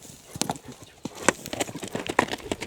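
A light-footed horse clip-clops along at a quick running gait, hoofbeats landing sharply and irregularly at close range, with faint background sounds and a murmur of voices.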